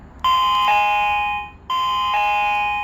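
A WiFi and GSM dual-network alarm system sounds its doorbell chime, two loud, clear ding-dong rings in quick succession, close and alone with no talking.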